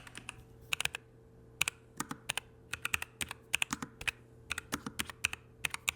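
Brisk keyboard typing, clicky keystrokes in irregular bursts close to the microphone, with no voices.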